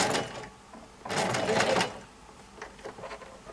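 Sewing machine stitching the lining of a quilted bag, running in short bursts with the loudest stretch in the middle, close and clear with no talking.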